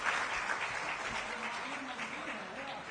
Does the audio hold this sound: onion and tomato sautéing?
no